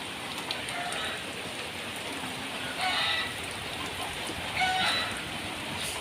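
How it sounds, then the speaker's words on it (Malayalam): Heavy rain pours down around a house with waterlogged surroundings, a steady, loud hiss of drops on surfaces that fills the whole stretch, with a couple of brief fainter sounds rising through it. "നല്ല മഴ പെയ്യുന്നുണ്ട്."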